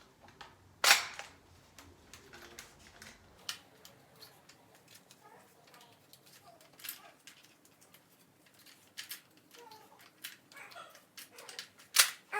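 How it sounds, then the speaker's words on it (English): Nerf Spectre Rev.5 five-round revolver firing its included foam darts, giving sharp isolated clicks and pops spaced several seconds apart, with soft handling noises in between and no talk. "we're gonna fire it using the included darts"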